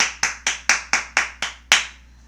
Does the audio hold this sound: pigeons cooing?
no